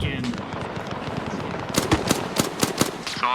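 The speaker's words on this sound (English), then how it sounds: "Pretty sure somebody over there shot a burst toward us from our guys" Automatic gunfire in a military video game rattles out as a rapid burst of sharp cracks in the second half, after a busy stretch of distant battle noise.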